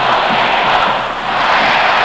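A record crowd of 80,011 roars at a 1966 Notre Dame at Michigan State college football game, giving a dense, sustained wash of stadium cheering with no break.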